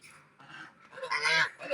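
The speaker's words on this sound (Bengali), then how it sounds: "দেখো এগুলো হলো আমাদের রাজহাঁস" Domestic geese on a farm let out a few short, nasal honks that rise into a louder burst near the end, fairly close, with talking mixed in.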